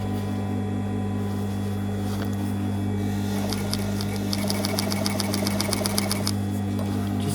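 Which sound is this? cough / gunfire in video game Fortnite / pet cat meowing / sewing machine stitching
sewing machine stitching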